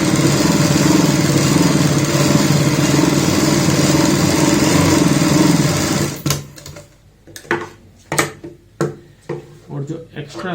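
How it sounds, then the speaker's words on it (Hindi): A sewing machine stitches a baby frock for a six-year-old with a steady, close, continuous whir for about six seconds, then stops, and a person talks afterward. "इस साइड में भी यहाँ पे सिलाई लगाएंगे।"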